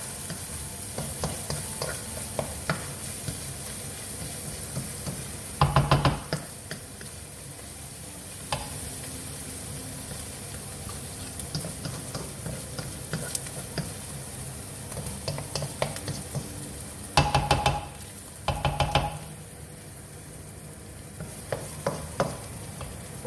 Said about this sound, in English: Let that cook and soften down.